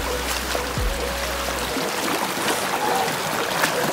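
A mountain stream flows steadily nearby, a continuous soft rush and trickle of water with no voices.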